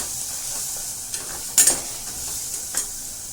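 Onion-tomato puree with ground masala fries in a pan for chicken curry, a soft steady sizzle with a couple of brief stirring scrapes close by.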